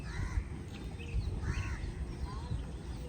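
A crow near Alappuzha Beach in Kerala gives several harsh caws at moderate distance over a low rumble of wind and surf, with faint background voices.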